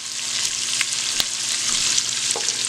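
Onion fries in leftover bacon grease with a dense, even sizzle, close up, broken by a few sharp ticks and pops over a few seconds.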